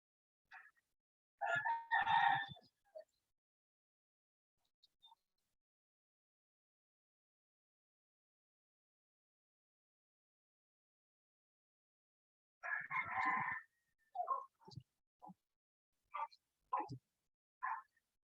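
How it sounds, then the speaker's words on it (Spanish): A rooster crowing and clucking, faint and distant, in two separate bursts with near silence between them. "Ese gallito está que pide olla"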